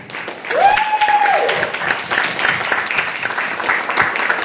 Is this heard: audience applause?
yes